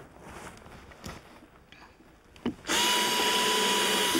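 Power drill driving screws into wood while building a squirrel-proof platform bird feeder: a steady, loud continuous whir starts partway through and holds to the end, after quieter handling knocks.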